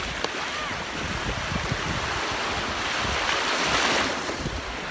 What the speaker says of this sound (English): Yes, enjoying these waves, baby.